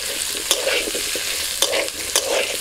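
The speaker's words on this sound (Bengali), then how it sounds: "আবার ওই কড়াইতে আমি আলুটাকেও ভেজে নিচ্ছি" Potatoes seasoned with salt and turmeric fry in mustard oil in a wok: a loud, steady sizzle broken by three sharp stirring scrapes, with no talking.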